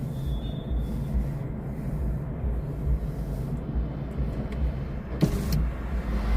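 A car's electric power window motor runs steadily for several seconds inside a moving vehicle, its hum layered over low road rumble, with a brief click near the end.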